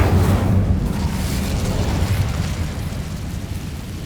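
Incendio fire spell cast in Hogwarts Legacy, a loud whooshing burst of flame with a deep booming rumble that is strongest at the start and then slowly fades into a roaring, crackling tail.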